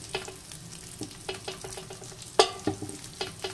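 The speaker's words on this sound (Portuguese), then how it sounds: "o fogo da panela aceso, porque eu preciso dela quente, porque nós vamos continuar selando as nossas carnes" Meats and sausage sear in a hot pan for a Brazilian pine-nut entrevero, a soft, steady sizzle broken by clicks and scrapes of stirring, close and quiet, with no talking.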